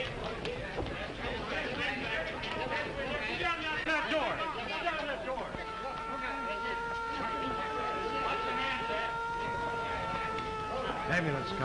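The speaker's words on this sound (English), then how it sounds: "Ambulance, Colonel." An ambulance siren wails with a steady, sustained tone that rises over a busy scene, while several people talk and chatter over it throughout.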